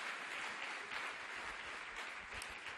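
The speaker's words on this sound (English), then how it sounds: "let's give a round of applause to Anthony DeVito." An indoor audience gives a performer a round of applause at a stage storytelling event, a dense, steady wash of clapping that continues unbroken throughout.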